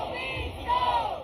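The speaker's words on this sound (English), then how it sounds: "The chanting followed." Carolina Hurricanes fans chanting at a Stanley Cup Final game: a dense arena crowd roars in a sustained, rising chant, heard briefly at moderate loudness.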